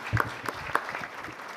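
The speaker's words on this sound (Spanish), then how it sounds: "Un aplauso para usted" Audience applause at a Latin American budgeting conference, moderately faint, with a few distinct sharp claps standing out in an uneven rhythm.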